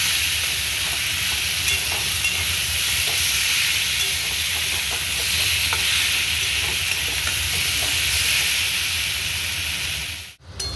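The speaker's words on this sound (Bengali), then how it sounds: "ভালো করে মশলার সাথে এঁচড় আলু ভালো করে কষে নিয়েছি।" Jackfruit and potato stir-fried with spices in a pan, giving a steady loud sizzle with faint scraping stirs throughout, close by, ending in a brief drop to quiet.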